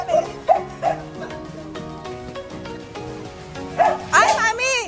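A Belgian, a Husky and an Askal bark and yip in short, close, excited bursts, several sharp barks near the start and a cluster near the end, with whimpering over background music and voices.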